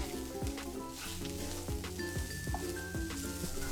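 Ginger and garlic cloves frying in oil in a pan for a dhaba-style egg masala, giving a steady close sizzle with a few stirring clinks and scrapes of a utensil against the pan.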